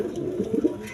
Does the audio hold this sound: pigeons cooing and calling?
yes